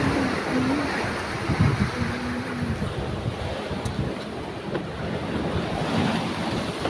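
Ocean surf rolls steadily onto a seashore, a continuous loud wash of breaking waves mixed with gusty wind buffeting the microphone, with no voices.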